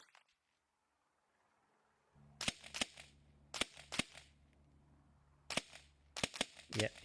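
Mini rifles at the British Mini Rifle Championship fire at targets, giving about nine sharp, crisp cracks. The shots come in quick pairs and clusters after a quiet start, over a low steady hum.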